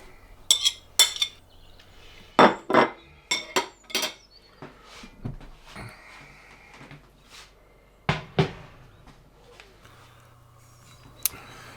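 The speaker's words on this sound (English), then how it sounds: "Now we're going to put the butter in our cooking pot." Butter goes into a metal cooking pot while chicken fricassee is being made, with scattered clinks and knocks of pots, utensils and cupboard sounds, fairly quiet and spaced out.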